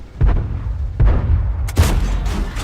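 Tank cannon shots in World of Tanks from an AMX M4 mle. 45 battle: several heavy booming blasts in quick succession, loud and close, each with a short rumbling decay.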